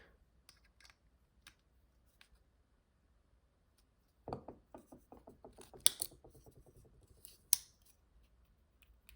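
Titanium Tactile Knife Co Maverick folding knife being tightened down, a quiet run of small rapid metallic clicks and ticks at close range with several sharper snaps, alone.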